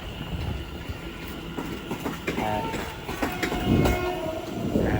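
Train passing through Watford Junction on the West Coast Main Line, heading from Manchester Piccadilly to London Euston, with continuous rumble, wheel clatter and horn-like tones, fairly close.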